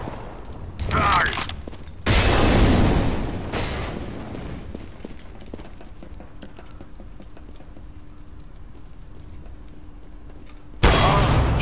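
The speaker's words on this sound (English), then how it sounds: "Throw in the flashbang!" A flashbang grenade in Counter-Strike: Global Offensive goes off as a loud, broad blast that fades over a second or so, set among bursts of in-game gunfire and a lingering low hum, with a fresh burst of noise at the very end.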